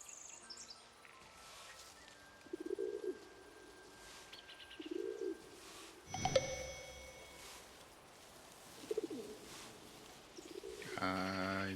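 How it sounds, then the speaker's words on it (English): Pigeons in the game Where Winds Meet give soft, low coos in separate short bursts every few seconds, set against a quiet bed of insect and bird chirps. "You said pigeons."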